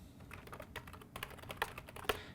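Quick, close clatter of keys as someone types commands on a computer keyboard at a Linux terminal, irregular bursts of taps with a few sharper strokes near the end.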